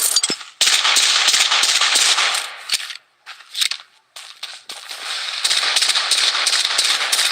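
Automated defensive turret firing in the shooter game Blood Strike, loud rapid bursts of gunfire with brief pauses, close and continuous with no speech.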